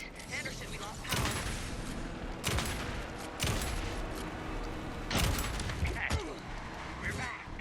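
Gunfire in the video game Alan Wake 2 comes as repeated loud bursts of shots in several volleys over a dense, noisy backdrop of game action, with voices speaking in between.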